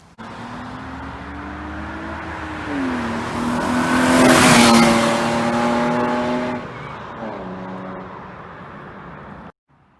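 Drift car engine revving and accelerating, a loud close roar with tones climbing, dropping and rising again through gear changes, easing off near the end before cutting out abruptly.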